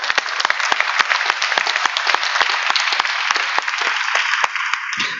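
Audience at an Arctic policy discussion bursts into applause, a dense, loud crowd clapping that holds steady for about five seconds before tapering.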